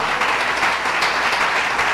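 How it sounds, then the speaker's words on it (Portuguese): A church congregation applauding during an anniversary service, a full steady roar of many hands clapping together, loud and sustained. "Você pode aplaudir ao Senhor com o seu melhor?"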